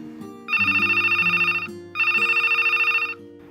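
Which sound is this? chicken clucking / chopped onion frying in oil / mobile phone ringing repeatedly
mobile phone ringing repeatedly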